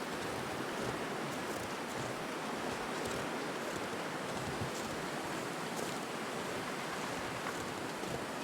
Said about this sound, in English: it's a windy day, but it's still nice and clear.